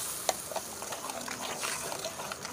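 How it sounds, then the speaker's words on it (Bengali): Turmeric and spice masala being stirred in a pan over a high flame for a mustard fish curry, a soft steady sizzle broken by a few light scraping clinks, fairly quiet throughout. "ভালো করে নেড়ে চেড়ে গ্যাসের ফ্লেমটা হাই করে 10 মিনিট ফুটিয়ে নেব।"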